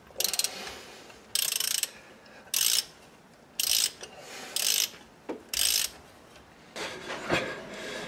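A ratchet works on the prop shaft bolts of an Audi 2.7 bi-turbo, giving about six bursts of close, crisp clicking separated by short pauses, followed by softer fiddly mechanical handling near the end.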